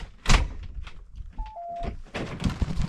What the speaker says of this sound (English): I've locked the door.